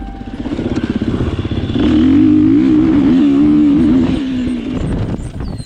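KTM 350 EXC-F motorcycle engine idling with a steady rapid pulse, then revving up briefly and settling back, close and loud, with some mechanical clatter.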